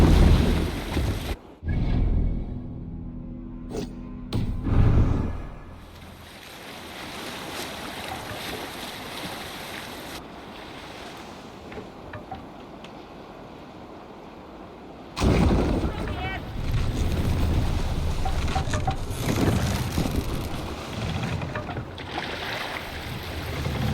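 A Viking sailing ship out at sea in Assassin's Creed Valhalla, with loud, rushing wind and washing waves that roll on continuously, plus heavy low thuds and buffeting near the start and again toward the end.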